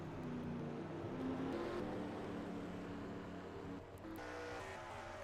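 Race cars in the NR2003 racing game at the Brickyard 500 rolling down pit lane, a steady loud droning engine roar from the whole field that holds throughout, dipping briefly near the end before resuming.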